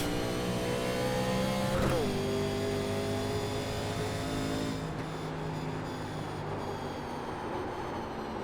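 A simulated 1987 NASCAR race car engine at Willow Springs drones steadily with buzzing harmonics, then its pitch drops sharply in one upshift and it carries on at a lower, slightly quieter tone.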